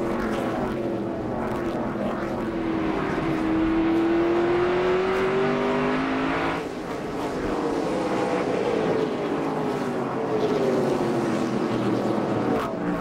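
Stock cars race at the 2009 NASCAR Toyota All Star Showdown, their engines forming a loud, continuous roar with rising and falling pitch sweeps as cars pass, with no talking.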